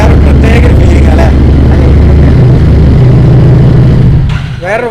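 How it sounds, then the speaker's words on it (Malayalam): A second-hand Harley-Davidson motorcycle engine rumbles loudly and steadily up close with a low throbbing idle, easing off near the end as a voice briefly comes in. "ഹാർലിയുടെ സൗണ്ട് വേറെ പ്രത്യേക ഫീലിംഗ് അല്ലേ"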